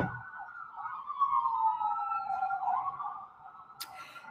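An ambulance siren wails from a distance in one long rising and falling sweep, fading slightly as it passes, alone over quiet background.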